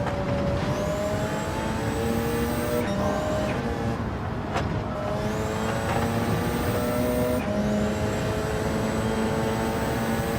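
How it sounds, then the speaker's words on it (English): Nissan GT-R race car in Gran Turismo 7 accelerating hard down a straight at Le Mans: a loud, close engine climbing through several rising gear pulls, each ending in a quick shift before the next climb. "That GTR is ridiculous in a straight line"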